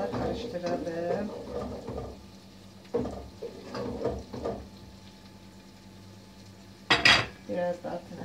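Food being stirred in a cooking pot with a utensil, scattered clinks and scrapes against the pan under faint sizzling, with someone talking between the strokes.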